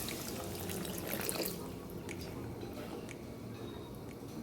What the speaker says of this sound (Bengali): আমি একটু জল দিয়ে দিচ্ছি।